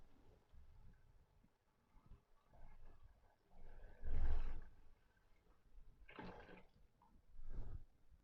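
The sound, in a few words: water being poured into a pot for chana pulao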